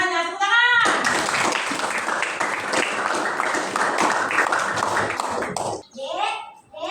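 Audience clapping and cheering before a school sociodrama, a loud sustained round of applause that starts abruptly and cuts off, framed by someone talking before and after.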